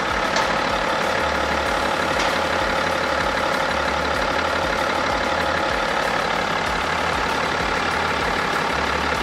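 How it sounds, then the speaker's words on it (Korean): A BMW X6 (F16) xDrive 30d diesel engine idling steadily up close, an even low rumble with a constant clattering texture throughout. "엔진 소리 일정하고 좋습니다"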